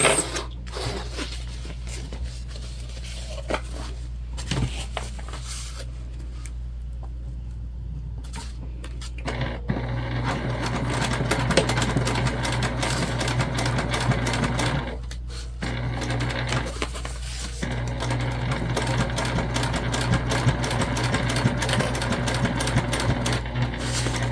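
Sewing machine stitching crossbody bag lining pieces, a steady mechanical whir that pauses briefly and resumes, close and fairly loud throughout with no talk.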